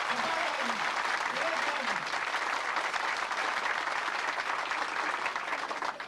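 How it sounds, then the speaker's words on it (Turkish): Dense applause from an audience in a hall at a Turkish political campaign event for a parliamentary candidate, loud and continuous for the whole span, tapering slightly at the end. "Onlara da bir alkış rica ediyorum."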